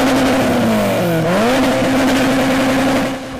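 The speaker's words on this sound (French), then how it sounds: "Ronflement des moteurs" Race car engines roar loudly at the Run Car 973 speed event, a steady close-up drone with a pitch that dips and climbs again as a car accelerates, continuous and without talk.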